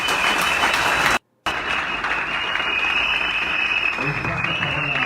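Audience applause at a Congolese gathering, a crowd clapping themselves, dense and steady for about five seconds with a brief cutout near the start.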